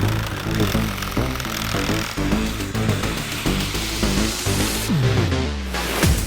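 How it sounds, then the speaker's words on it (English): Battery-powered Sawzall reciprocating saw cutting through a fence pole, a loud, steady buzzing rasp held continuously for several seconds, close by, with the pitch shifting near the end as the blade works through. "I have a battery powered saw, so Sawzall"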